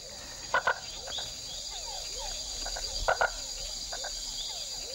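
Red-eyed tree frogs call in the emerald forest, giving short clustered clicking croaks in two bursts over a steady bed of insect chirring at moderate distance.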